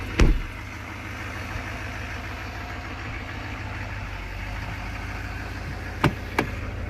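A Duramax L5P diesel pickup truck idling after a cold start, a steady low rumble with a light clattering texture and a couple of sharp clicks, no voices.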